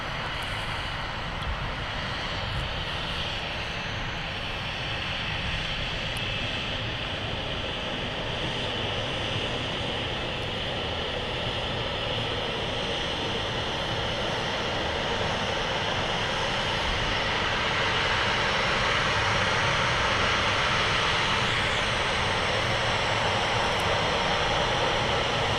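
Ryanair Boeing 737 airliner passing at Manchester Airport, a long steady jet rumble at moderate distance that slowly swells louder toward the end, no voices.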